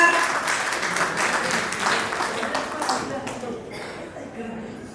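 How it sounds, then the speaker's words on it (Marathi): A small gathering at a birthday celebration claps for Gandhali. The burst of applause is loudest at the start and tapers off over several seconds as the clapping thins out and fades. "टाळ्या गंधालीसाठी जोरदार"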